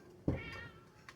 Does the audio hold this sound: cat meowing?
yes